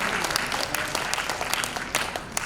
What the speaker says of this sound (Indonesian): tepuk tangan lebih keras lagi buat Tuhan